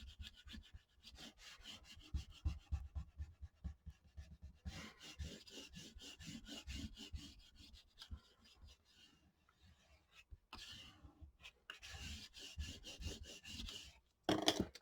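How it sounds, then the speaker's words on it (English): A tool rubs and scrapes firmly over folded paper, burnishing a crease for a trifold mini album. It makes quiet, close, repeated rasping strokes in uneven bursts with short pauses between them. "just burnish that down really good"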